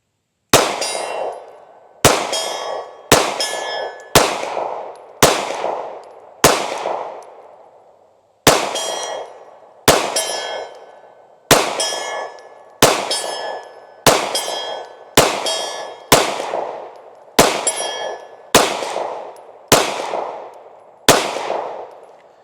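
A Ruger RXM pistol fires about sixteen shots at a steel IPSC target 50 yards away, each a sharp crack followed by a ringing clang, in a steady, evenly spaced series with one longer pause.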